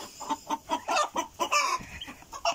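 A hen clucks steadily in quick, rhythmic bursts close by, a busy run of repeated clucks with brief pauses.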